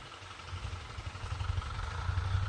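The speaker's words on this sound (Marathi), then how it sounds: "अशा रीतीने आता ट्रॅक्टर चालू केला आहे" A tractor engine runs steadily just after being started, a low mid-pitched rumble holding at a near distance and gradually growing slightly louder, with no voices over it.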